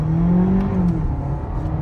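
A Volkswagen Virtus GT accelerates hard in a drag race against a Hyundai Verna 1.5 Turbo, its engine note loud and close in a strong, steady whirring rev.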